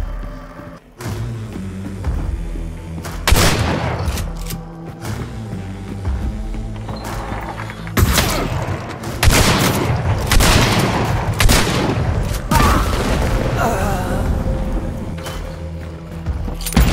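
Yellow explosive barrels blow up in a video game, loud repeated booms and blasts mixed with rapid gunfire and clattering mechanisms, coming in dense bursts.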